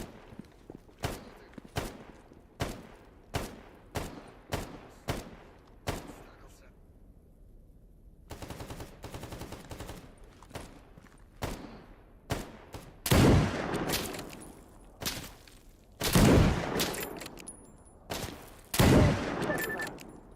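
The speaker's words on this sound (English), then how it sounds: "Shooting." Gunfire in STALKER GAMMA, an ironman run: a steady string of crisp single shots for the first several seconds, then a denser, rumbling stretch of heavier, louder bursts and booms, with background game ambience between them.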